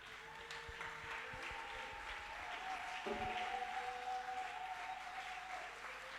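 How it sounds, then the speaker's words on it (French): A church congregation applauds steadily through a Sunday worship service, a dense wash of clapping that holds at an even level throughout, with some sustained tones and voices mixed in beneath it. "Acclame Jésus ce matin"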